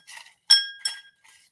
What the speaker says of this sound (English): I have everybody's name in this FENTON ball, and I'm going to stir it up